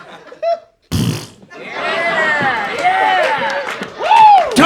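A man on a stand-up comedy stage vocally imitates a vaginal fart, a loud sputtering buzz, followed by a live audience breaking into sustained laughter and cheering that swells again near the end.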